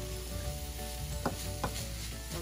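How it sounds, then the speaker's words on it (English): Vegetables and tofu sautéing in a pan for yakisoba with ground chicken, a continuous close sizzle broken by a few sharp scrapes of stirring, with no talking. "we will just saute them for another minute"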